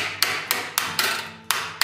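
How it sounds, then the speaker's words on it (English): A raising hammer strikes metal sheet while shaping the pteruges of hoplite armor, giving six sharp, evenly spaced taps with ringing decays between them, close and fairly loud with no voices. "I'll take my raising hammer"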